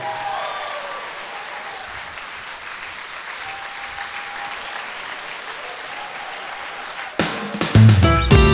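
Concert audience at a chanson festival in Jurmala applauding a singer's entrance, a long steady wash of crowd clapping with faint whistles, then loud music with percussion cutting in near the end.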